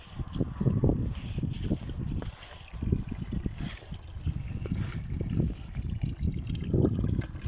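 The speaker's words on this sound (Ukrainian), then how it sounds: "Гарненький шипіт з джерельною водою." Spring water trickles and splashes from a spout, a close, uneven bubbling gurgle with repeated low splashes that continues steadily throughout.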